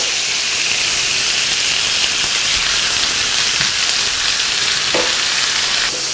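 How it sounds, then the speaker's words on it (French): Veal sizzles loudly and continuously in butter mixed with olive oil in a hot pan, a dense, close frying hiss with a few faint knocks from utensils. "Je mélange un peu le beurre avec l'huile d'olive. Et je vais commencer à faire cuire le veau"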